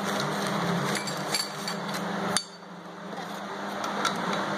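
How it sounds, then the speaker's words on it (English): Small 3/8-inch impact wrench snugging cylinder head bolts on a 2013 Ford 6.8 V10 engine, giving a sustained rattling buzz that cuts off sharply midway, followed by a quieter shop background and a brief clink. "little 3/8 impact just to get them snug"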